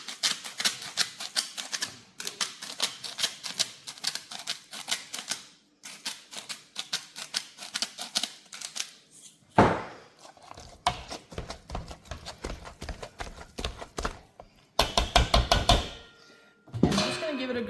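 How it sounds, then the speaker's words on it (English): Himalayan salt crushed in a 250 ml Consol grinder, giving rapid dry crunching ratchet clicks in close, loud bursts with brief pauses between them, no talking. "I've got some Himalayan salt in a beautiful Consol grinder"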